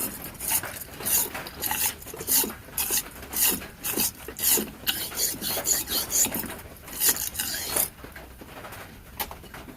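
An old military pistol cleaning rod scrapes crud out of a Coleman 502 stove, giving a rapid, rhythmic rasping and rubbing of metal, close and moderately loud, in short back-and-forth strokes.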